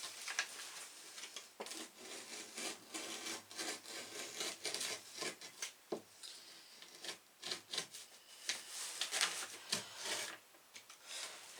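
Hand saw cutting through a piece of wood all the way to the end, a series of rasping strokes at close range, uneven in rhythm with short pauses, with no voices over it.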